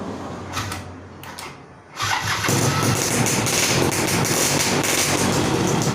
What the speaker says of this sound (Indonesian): Oke, mesin sudah menyala.